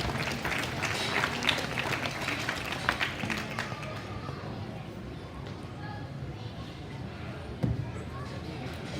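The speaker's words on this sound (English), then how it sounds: "Let's all give them a big round of applause." Applause from the audience at a swine show, a broad, steady wash of many hands clapping that carries for several seconds before thinning out, with crowd murmur and a single sharp knock late in the clip.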